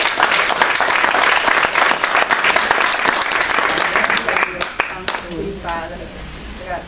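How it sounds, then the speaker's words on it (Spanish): Congregation applauding loudly and steadily during a church sermon, a dense wash of clapping lasting throughout, with a voice breaking in over it near the end. "Dale un aplauso al Señor. Dáselo fuerte."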